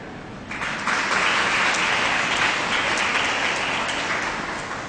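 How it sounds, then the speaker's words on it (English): Applause from a retreat audience in Panvel, Mumbai, thanking a Hindi translator; steady dense clapping swells in after a second and holds fairly loud, tapering slightly at the end, with no talk over it. "Give her a clap."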